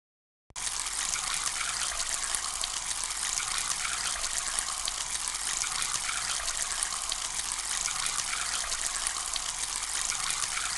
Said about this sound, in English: Use the watering can to feed water to your plant.